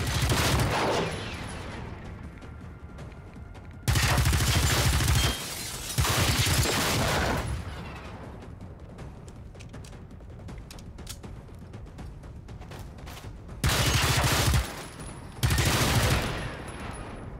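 Loud bursts of rapid automatic gunfire from the video game Generation Zero, arriving in several distinct volleys separated by quieter stretches of clicking and handling that suggest reloading.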